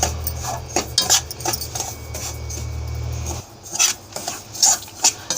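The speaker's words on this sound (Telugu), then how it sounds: "స్టవ్ని మీడియంలో పెట్టుకొని దోరగా వేయించుకోవాలి, కలర్ వచ్చే వరకు." Bombay rava semolina dry-roasting over medium heat in a pan, scraped and stirred by a spoon in quick repeated strokes with metallic clinks, close and clear over a low hum that stops partway, no voices.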